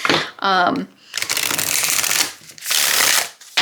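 Tarot cards being riffled and shuffled in quick rustling bursts, close up, with a person talking between the shuffles.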